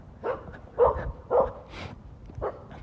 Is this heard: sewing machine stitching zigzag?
no